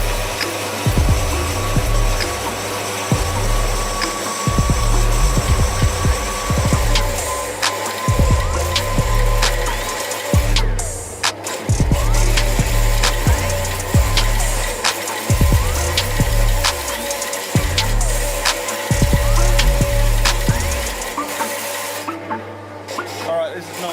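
A bandsaw with a badly worn blade grinds through a forged steel kiridashi knife blank in repeated rasping strokes, each pass a harsh, pulsing cut against a constant motor hum, the saw falling silent at the end.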